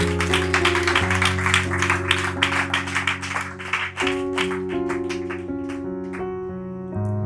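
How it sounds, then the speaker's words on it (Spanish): A church congregation claps rhythmically over sustained organ or keyboard chords. The clapping stays fairly strong for about four seconds and then thins out while the music carries on. "Denle un aplauso a Dios."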